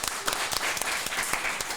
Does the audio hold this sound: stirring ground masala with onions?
no